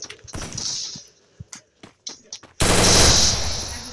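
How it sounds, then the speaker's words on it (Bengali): Gunfire from the Free Fire mobile game with an AWM sniper rifle: scattered sharp shots and short bursts, then a loud sustained burst of rapid fire to the end, close and dominant. "গুলি তো শব্দ করা লাগবে ভাই"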